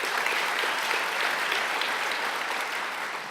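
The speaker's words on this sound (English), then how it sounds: "A big round of applause for all the class of 2018 students." A crowd applauds the class of 2018 at a high school senior awards ceremony. The clapping is dense and continuous, filling the hall and fading slightly at the end.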